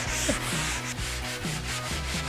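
Hand sanding of painted furniture with finer grit sandpaper gives brisk back-and-forth scratchy rubs in a steady rhythm, about two strokes per second, close and clear with no talking.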